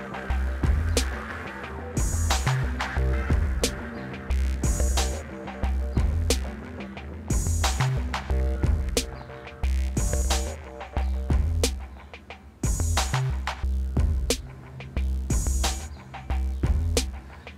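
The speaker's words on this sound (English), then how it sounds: "This reverb is sort of like a drone, just gives it some air." A sustained, washy drone hangs beneath rhythmic music, filling the background with a steady airy wash as beats pulse on top.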